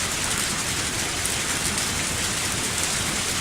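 Steady, heavy rain in the video game Lucky Dog 1 pours continuously with a dense hiss of drops, no talking, consistent in loudness throughout.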